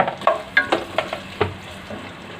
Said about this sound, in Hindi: ये कटी हुई प्याज हम इसमें डालकर इसको ब्राउन करेंगे।